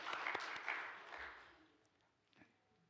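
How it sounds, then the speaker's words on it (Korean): Applause for a church deaconess at an early-morning revival service, a brief burst of clapping that fades quickly to scattered claps. "우리 지정희 권사님께 박수 부탁드립니다"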